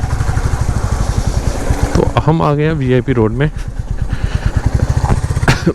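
Royal Enfield Classic 350 motorcycle riding on a rough city road, its steady low engine thump running close and continuous under someone talking throughout.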